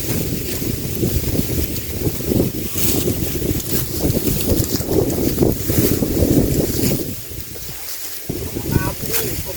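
Steady cool wind gusting outdoors in rural Thailand, roaring into the microphone as a continuous broadband rush, with indistinct voices beneath it.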